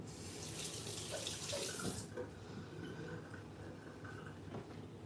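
Hands are washed under a running kitchen tap, with water gushing loudly into the sink for about two seconds before it is shut off, leaving faint splashes and small clinks in a quiet room.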